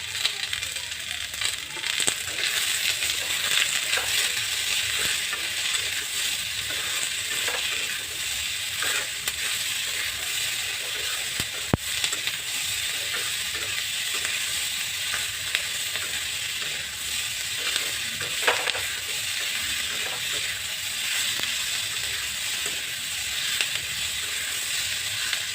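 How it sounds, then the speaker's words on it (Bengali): Onions and capsicum frying in a pan for restaurant-style chilli fish, giving a steady, dense sizzle with occasional light scrapes and clinks from stirring throughout, no voices. "দেখতে পাচ্ছেন পেঁয়াজ আর ক্যাপসিকামগুলো ভাজা হয়ে গেছে।"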